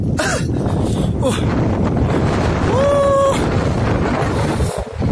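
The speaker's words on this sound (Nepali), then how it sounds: "सो गाइस म देखाउँछु है हावा कस्तो चल्दो रहेछ भनेर" Strong wind roars through a village, buffeting the microphone with a loud, continuous rushing sound. A voice rises briefly partway through, and the gusts dip near the end.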